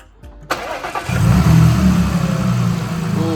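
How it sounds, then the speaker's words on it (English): A supercharged Audi engine cranks and catches after a short pause, then revs up and holds a strong, even idle, loud and close with a clear start-up surge and no talking. "Ooh, that was a much better start."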